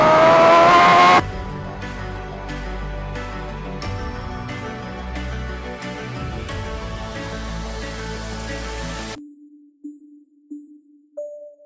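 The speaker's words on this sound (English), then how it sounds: "the first ride on the full carbon H2R." A full carbon Kawasaki Ninja H2R motorcycle revs briefly at high pitch, then a low steady engine drone runs for several seconds before cutting out, followed by a few faint short tones in near silence.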